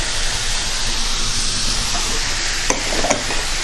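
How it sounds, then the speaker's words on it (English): Potatoes sautéing in a pan, a steady close sizzle with scraping stirs and a couple of sharp utensil clicks near the end. "Now to that saute, I come back with my potatoes."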